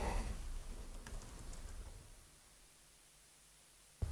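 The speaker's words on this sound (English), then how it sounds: "So I'll just type the command." Fast clicking on a computer keyboard as a command is typed, steady for about two seconds and then tapering to quiet, ending with a single sharp keystroke; no one speaks.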